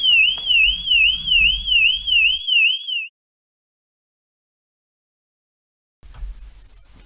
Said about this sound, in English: The siren goes off and the strobe light starts to flash.